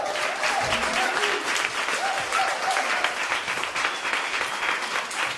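A live audience at a spoken word event applauds the performer, with loud, dense clapping sustained throughout and a few faint voices and cheers mixed in.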